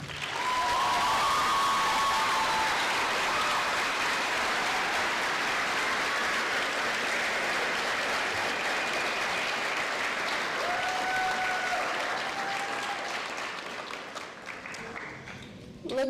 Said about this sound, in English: let us give a round of applause to our families.